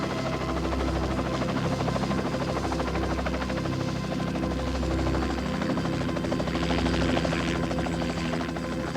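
Helicopter running close by during forest fire fighting, a loud steady rotor and engine roar with rhythmic blade chop that holds for the whole stretch, no voices over it.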